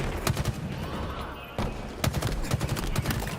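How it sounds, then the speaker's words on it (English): Rapid gunfire in a Halo World Championship match, bursts of sharp close shots in uneven clusters repeating through the moment, loud and dense with game sound beneath. "Shots go down."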